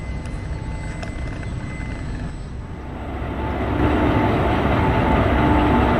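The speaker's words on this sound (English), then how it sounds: "we are finally departing from Kakinada port station in the Sircar Express bound to Chengalpattu" The Circar Express pulls out of Kakinada Port station, bound for Chengalpattu. A steady, dense rumble of rail noise swells noticeably midway as the train gathers pace, with no speech.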